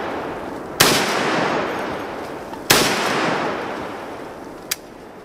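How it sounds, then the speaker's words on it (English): An AK-50 rifle is test fired: two heavy, booming shots a couple of seconds apart, each with a long decaying echo, then a smaller sharp crack near the end. "Round number 70. Test firing in 3, 2,"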